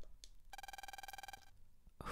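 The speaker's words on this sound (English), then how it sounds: "Lan, phone for you." A telephone rings in the video game Megaman Battle Network, a rapid electronic trill of repeated tones lasting about a second, heard alone before a brief burst of other game sound.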